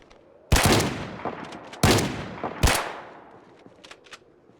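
Three loud, booming shotgun blasts fired at close range at NPCs in the survival game Project Zomboid, spaced about a second apart, each followed by a decaying echo tail, with no talking.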